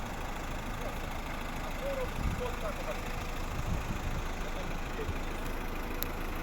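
A 2009 Renault Grand Scenic with a 1.9 dCi 130 hp diesel engine idling, a steady low rumble heard from nearby, smooth and even, with faint outdoor background.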